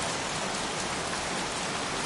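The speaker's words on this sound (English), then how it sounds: "Goddamn rain, soaking wet." Heavy rain pouring down, a dense unbroken hiss of drops hitting surfaces, steady and close with no pauses.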